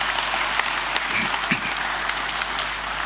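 A conference crowd at ICASA applauds steadily from a distance, dense clapping holding at an even level throughout.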